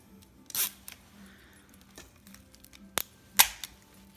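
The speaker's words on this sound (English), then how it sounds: "that's a zip tie gun, and it just makes it super tight and snips the end off" A zip tie gun cinches a plastic zip tie while making custom Christmas decor, giving a few sharp snapping clicks and a crisp snip, close and distinct against a quiet room.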